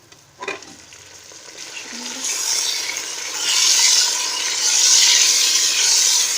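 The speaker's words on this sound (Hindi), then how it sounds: "अब इसको 2 से 3 मिनट में इसी तरह से भूनूंगी।" Beef and onions fry in a pot for haleem, starting with a clatter and stirring, then swelling into a loud, steady sizzle close by.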